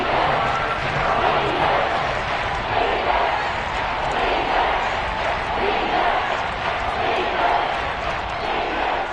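A football stadium crowd in a video game keeps up a continuous, swelling roar of cheering ahead of a big third down, loud and unbroken, with a commentator's voice faintly mixed in.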